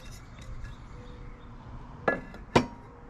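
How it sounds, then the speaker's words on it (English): Two sharp glassy clinks as a large art glass fish figure is handled, close and fairly loud against a quiet room background. "This is a art glass fish figure."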